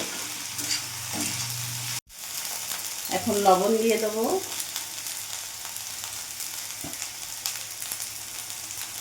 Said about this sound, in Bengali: এবার আলুর সাথে ভেন্ডিটা একটু ভাজা ভাজা করে নেব